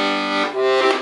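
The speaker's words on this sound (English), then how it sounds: "Bass buttons, 6 chords," Bass buttons on a small Noble LM 12 student accordion sound a few short chords in quick succession, reedy and full, close up with no talking.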